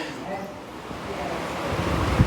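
Strong wind gusting outdoors as a steady, broad roar that builds slightly toward the end. Background rumble sits behind the gusts, with no clear speech over it.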